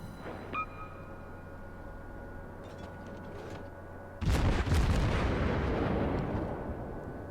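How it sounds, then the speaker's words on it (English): Naval gunfire in World of Warships from a Königsberg cruiser: a low hum with a faint ping gives way to a sudden loud booming salvo that rumbles and fades slowly, no talk. "And I masterfully shoot beside the St. Louis."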